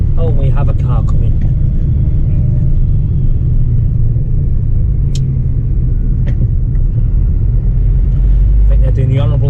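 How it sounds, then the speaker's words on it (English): A car's engine rumbles steadily and loudly nearby, approaching along a narrow single-track road, heard from an HGV cab, with a person speaking briefly at the start and end. "Oh, we have a car coming."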